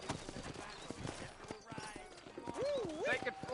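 Horse hooves clip-clopping in Red Dead Redemption, a steady walking rhythm of close hoofbeats mixed with other game sounds and a voice, with a brief rising-falling whistle-like tone near the end.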